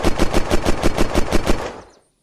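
Full-auto gunfire from a weapon in the video game Unturned, a rapid steady burst of about ten loud, evenly spaced shots that ends abruptly and fades into silence.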